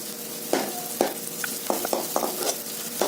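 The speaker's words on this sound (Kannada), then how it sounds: "ಇದರೊಳಗೆ ಹಾಕೊಂಡಿದ್ದೇವೆ ನಾವು ಶುಂಠಿ ಬೆಳ್ಳುಳ್ಳಿ ಪೇಸ್ಟ್ ಇದು ಸ್ವಲ್ಪ ಒಗ್ಗರಣೆ" Ginger garlic paste fries in hot oil for gobi manchurian, a steady close sizzle broken by repeated scraping stirs of a spoon against the pan, with no one talking.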